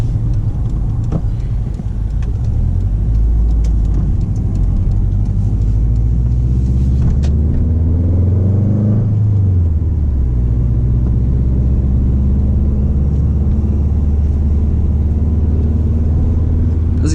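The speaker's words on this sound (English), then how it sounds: "I'm so glad to be driving the WRX again" A Subaru WRX driving along, its engine giving a loud, steady low rumble from inside the cabin, rising briefly as it accelerates partway through and then settling back to a constant drone with road noise.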